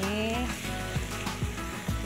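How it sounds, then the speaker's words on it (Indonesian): Spices sizzle and fry in a hot pan while being stirred, for a sambal with tempe and anchovies; a steady close crackling hiss with a few soft scraping stirs. "kita tumis"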